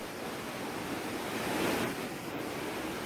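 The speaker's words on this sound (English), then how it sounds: "the refreshing sight and sound of water cascading down" Water cascading down Kothapalli waterfall in Andhra Pradesh gives a steady, dense rush of white noise that holds at an even loudness for the whole stretch, with no voices.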